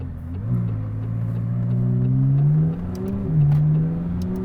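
A McLaren 570S with old-school turbo lag pulls hard, its engine note climbing steadily in pitch through the gears with a brief dip and recovery, loud and close from inside the car.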